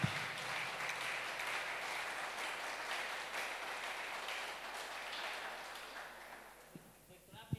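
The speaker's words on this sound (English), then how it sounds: "Clap for yourselves." A church congregation at a Sunday service claps in a broad, steady wash of applause that slowly fades, with a few sharp knocks near the end.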